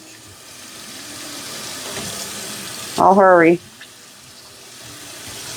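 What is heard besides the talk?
hot water running from a tap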